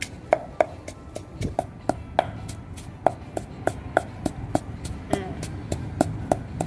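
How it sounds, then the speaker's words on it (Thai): Dried chilies pounded in a mortar with a pestle, a steady series of sharp close thuds roughly every third of a second, with faint background noise between strikes. "แม่ลุงก็โขลกพริกละเอียดดีแล้วนะคะ"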